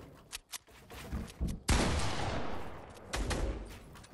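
Shotgun blasts in Fortnite: a few sharp separate shots, then a loud heavy blast with a long noisy decay and more bursts following close together.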